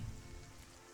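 Rain falls steadily in Elder Scrolls Oblivion Remastered, a soft, even patter and hiss that runs quietly through the whole moment with no voices.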